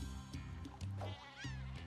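Super sheep in Worms Revolution, a few short nasal bleats over looping game music, fairly faint and close.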